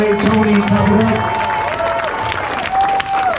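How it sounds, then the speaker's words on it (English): Crowd clapping and cheering at a candlelight vigil and mural tour honoring George Floyd, a lively burst of applause and shouts with voices rising over it, fairly close and loud. "Please clap it up for Ducle up front"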